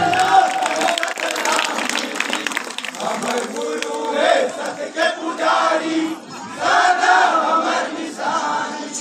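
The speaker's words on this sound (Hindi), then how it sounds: "तालियां बजाकर स्वागत, तालियां बजना चाहिए" Clapping and cheering from an audience at a Satnami gathering, a loud, busy crowd sound with shouting voices mixed over the applause.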